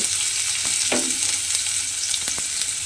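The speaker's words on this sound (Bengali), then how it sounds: "সেই করলাগুলো কিন্তু তেলের মধ্যে দিয়ে দেব" Thinly sliced bitter gourd sizzles in hot oil, a loud, steady frying hiss broken by a few crackles and scraping stirs.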